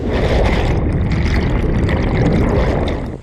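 Steady rushing water pours and splashes continuously at Wang Kan Lueang waterfall in Lopburi, Thailand, a loud, dense roar close by with no voices.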